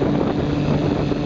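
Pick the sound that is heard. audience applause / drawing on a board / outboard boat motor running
outboard boat motor running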